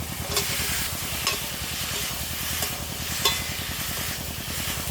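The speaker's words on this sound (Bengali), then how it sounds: "সব লাল লাল করে ভেজে নেবো টমেটো কুচি স্বাদ মতো লবণ পরিমাণ মতন হলুদ ভেজে রাখা ওলকপি আর আলু দিয়ে দেবো" Chopped tomato, kohlrabi and potato fry with salt and turmeric in a hot pan. A steady, close sizzle hisses throughout, broken by a few spoon scrapes and knocks while the food is stirred, with no voices.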